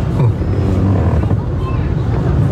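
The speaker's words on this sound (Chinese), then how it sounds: "风大到不但人差点被吹倒" Strong gusts from a typhoon in Kaohsiung, southern Taiwan, buffet the microphone in a loud, rumbling low roar that surges and stays dense for the whole short stretch.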